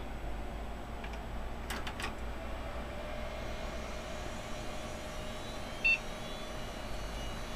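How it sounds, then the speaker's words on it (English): An old hard disk drive spinning up in an old computer gives a faint, low mechanical whir that hums steadily, with a few soft ticks and clicks and one short high beep near the end. "that sounds like an old-fashioned hard disk"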